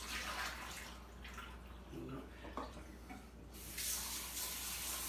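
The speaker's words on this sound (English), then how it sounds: "I'm just going to pour that all down the sink." Water from coral shipping containers is poured down a kitchen sink, a steady rush of splashing at the start that pauses briefly and then returns louder, with a faint voice in the background.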